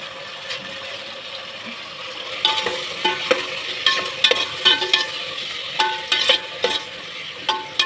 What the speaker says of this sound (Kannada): ಸ್ವಲ್ಪ ಈರುಳ್ಳಿ ಟೊಮೆಟೊ ಚೆನ್ನಾಗಿ ಫ್ರೈ ಆಗಬೇಕು